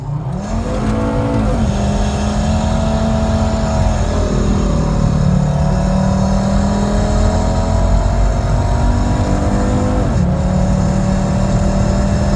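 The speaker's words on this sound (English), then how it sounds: "I wanna take you guys for a ride in a pretty cool Volvo" A Volvo car drives and accelerates, its engine note climbing through the gears with clear pitch sweeps and shift dips, a loud, steady in-cabin drone and no talking.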